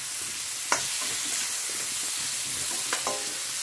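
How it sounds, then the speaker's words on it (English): Baby mushrooms stir-fry in a pan, a steady bright sizzle broken by a couple of quick scraping stirs and light clicks. "before we start to stir fry them"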